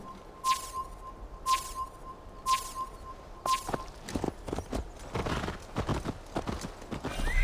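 Horse hooves clip-clop in a steady walking rhythm in an Assassin's Creed Valhalla game scene, with a few whinnies and a sustained tone early on, then busier, denser movement sounds later.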